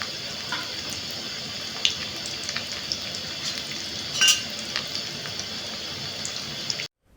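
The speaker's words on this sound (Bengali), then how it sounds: "তেলের হিট দেখবেন, প্রথমে জোরে হিট দিয়ে তেলটাকে গরম করে নেবেন, তারপরে হিটটাকে লো করে দেবেন।" Fish shallow-frying in hot oil in a pan for a crispy Bengali fish fry, a continuous soft crackling sizzle with a few sharper pops and a brief louder spatter, then cutting off abruptly.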